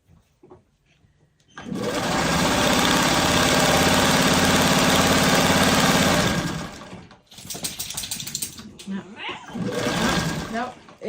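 A sewing machine stitches a freeform quilt block seam with a loud, steady, fast mechanical whir lasting several seconds. It then stops, followed by shorter bursts of stitching and handling noise with a voice speaking nearby.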